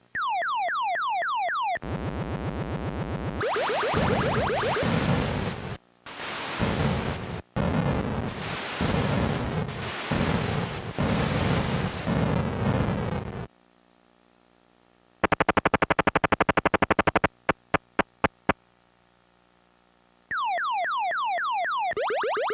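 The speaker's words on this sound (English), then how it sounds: "press the fire button to launch a missile, and it's going to try to take out the enemy missiles shooting at you" Missile Command on an Atari 400 computer plays loud synthetic bursts of noise for missile launches and explosions, with long roaring hiss blocks, a few sudden clicks and falling warbling tones, alone and continuous apart from brief silent gaps.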